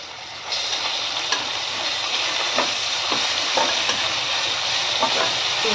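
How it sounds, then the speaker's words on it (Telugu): Onions, green chilli and ginger garlic paste sizzling in a hot pan, a steady crackling fry that starts abruptly, with a few soft scrapes of stirring and no talking. "ఈ ఆనియన్స్ ఫ్రై అవుతుండగా కొద్దిగా జింజర్ గార్లిక్ పేస్ట్, అలాగే గరం మసాలా కూడా వేసేసి ఒకసారి ఫ్రై అవనిద్దాం."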